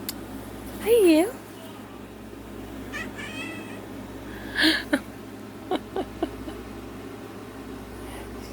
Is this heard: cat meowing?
yes